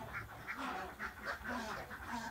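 Many laying ducks quacking close by in their pen, a busy, overlapping chorus, the calls repeating in an uneven rhythm with no speech.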